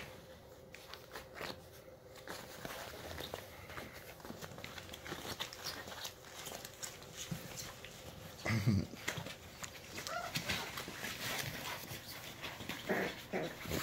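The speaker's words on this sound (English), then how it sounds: "Puppy attack." Puppies play-fight nearby, with quick panting, scuffling and small yips under frequent talk from a person.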